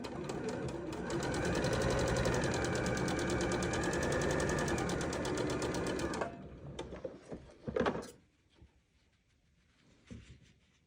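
A sewing machine stitches a quilt block seam in a steady rapid run for about six seconds, then stops, followed by a few faint handling clicks and rustles.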